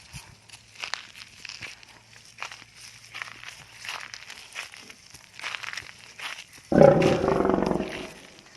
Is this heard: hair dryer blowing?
no